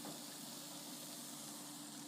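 Vegetables sizzling in a thin brushing of oil over high heat for swordfish puttanesca, a steady, even hiss with a faint hum underneath, continuous and close throughout.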